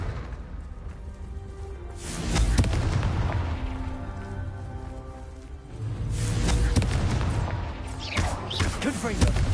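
A Confringo blasting spell going off in the Hogwarts Legacy game, two booming explosions with rumbling low-end tails and crackling debris, loud and close, separated by a brief lull.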